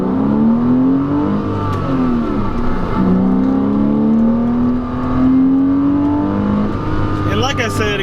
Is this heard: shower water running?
no